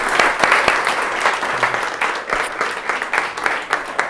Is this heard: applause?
yes